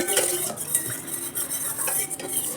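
A spoon stirs curd and water together in a metal vessel, steady scraping and clinking against the sides, close and clear with no talking.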